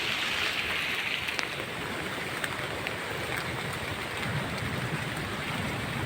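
Rain pattering steadily at a seaside fishing spot on the shore, a dense close hiss with scattered sharper drop clicks and no talking.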